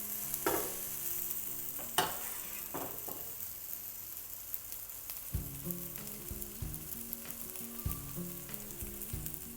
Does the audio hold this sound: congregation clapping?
no